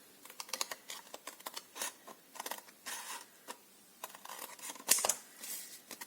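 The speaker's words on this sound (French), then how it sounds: "Du coup, je vais le faire au ciseau." Scissors snip through paper or tape in a string of short, close cuts, some quick and clustered, others spaced apart, all crisp and nearby with no voices.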